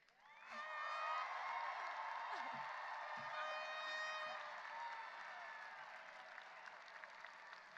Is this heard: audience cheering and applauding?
yes